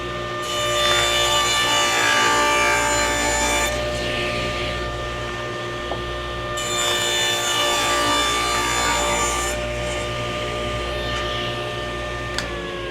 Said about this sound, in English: So I'll be cutting it to the 10 inches for each piece, which give me a slight sliver left over.